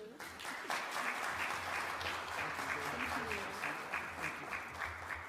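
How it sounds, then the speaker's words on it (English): Audience applause at a memorial poetry prize ceremony following a reading, as a steady, dense wash of many hands clapping that fills the room and holds throughout without a break. "please join me in one final round of applause for Latasha and Nevada Diggs"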